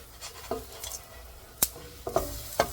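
Hot water cornbread fries in oil in a pan while a utensil nudges and flips it. Several sharp scrapes and clacks cut through a continuous crackling sizzle, close by, with no voices.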